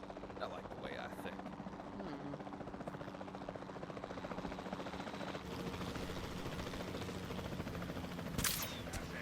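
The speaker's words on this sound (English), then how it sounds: "Then the sensible thing is to take a capture team helicopter." Capture team helicopter in the video game Jurassic World Evolution 2, a steady rotor drone held throughout under game music and a voice, with a brief sharper burst near the end.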